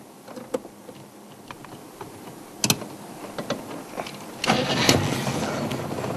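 Safari vehicle out on a leopard sighting cranking and catching, a few clicks and sharp clunks before the engine turns over near the end and settles into a steady close idle.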